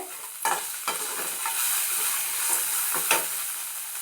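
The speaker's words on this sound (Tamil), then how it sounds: "இப்போது நல்லாவே வதங்கிடுது பாருங்கள் பொன்னிறமாக" Chopped karpooravalli banana flower sautés in a pan for chutney, giving a steady close sizzle and hiss with a few scraping stirs, and no voices.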